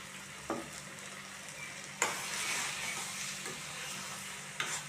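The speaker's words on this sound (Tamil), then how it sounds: "தேங்காய் பூ போட்டு ஒரு சுற்றி விட்டு" Blood fry with grated coconut being stirred in a pan, a steady sizzle with a few sharp scrapes of the spatula against the pan, close and alone with no talk.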